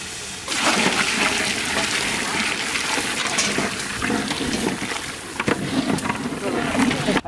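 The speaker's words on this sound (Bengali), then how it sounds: "চাল ভাজা হয়ে গেছে, এই গরম পানিটা দিয়ে দিলাম।" Hot water is poured onto fried rice in a cooking pot while making beef kidney and liver tehari, giving a loud sustained rushing hiss and sizzle that runs almost the whole time, with brief clatters near the end.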